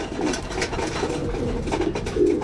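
Hungry racing pigeons crowd in to be fed, a close, continuous mass of cooing and wing and feeding noise with soft low coos repeating throughout.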